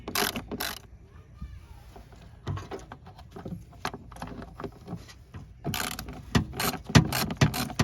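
Ratchet backing out 5.5 mm screws from the dash of a late-1990s Chevy S10 during a blower motor replacement, with quick clicking bursts that come near and loud, bunching toward the end amid small handling noises.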